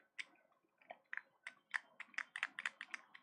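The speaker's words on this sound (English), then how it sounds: "so there is a wireless keyboard that is very expensive" Typing on an expensive white wireless keyboard: a quick run of crisp key clicks in an uneven rhythm, close and fairly quiet, with no voices.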